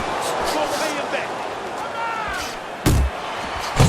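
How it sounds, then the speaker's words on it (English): A punch lands to the body in the Fight Night Champion boxing video game, a sharp thud over steady crowd noise and commentary, with another faint impact near the end. "Flush right hand to the body."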